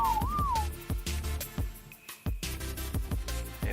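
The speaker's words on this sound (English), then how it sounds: "If I whistle him to the ground" Short rising-and-falling whistle command to a tamed creature in the ARK video game, followed by scattered game thumps and effects in the background.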